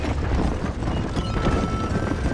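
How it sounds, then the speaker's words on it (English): Horses gallop in a Red Dead Redemption race, a loud, continuous rumble of hooves that fills the whole stretch without a break. "We got horse races going on."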